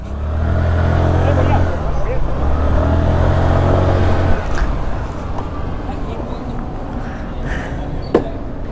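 A 2023 Hero Xoom 110cc scooter being ridden, its engine a steady drone under wind rush, loud at first and easing after a few seconds, with a sharp knock near the end.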